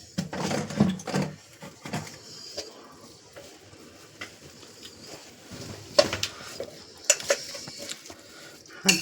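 Mashed giant taro paste with mustard oil is worked in a bowl, with clinks and scraping of a utensil in irregular bursts, close and fairly quiet, without talk.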